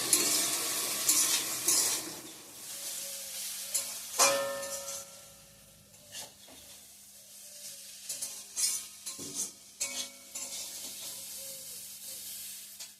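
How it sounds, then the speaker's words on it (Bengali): Vegetables and potatoes fry in a pan, a faint sizzle broken by scraping stirs and clinks of a utensil against the pan. "এদিকে ভটভটি আলুটা ভাজা বসিয়ে দিয়েছি"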